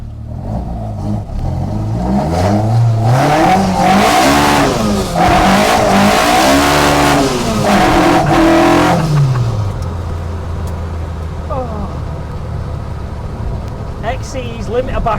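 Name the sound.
Vauxhall C20XE engine revving to limiter in Ford Escort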